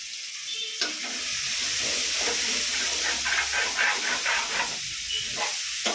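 Prawns frying with ginger, garlic, coriander, curry leaves and mint in a pan, a loud steady sizzle with bursts of stirring and spattering, close up, no talking.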